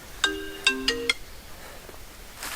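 A phone ringtone plays in a hunting setting during a traditional bowhunt: four sharp, bright tonal bursts over about one second, then quiet rustling outdoors.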